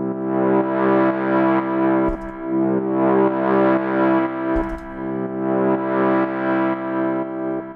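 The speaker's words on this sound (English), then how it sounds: "this filter is slowly opening up for this pad sound" A synth pad built on square-like waves with a slowly opening filter and reverb swells in steady, rich, sustained chords. The tone pulses gently in repeating waves, with brief low thumps near the middle and later on.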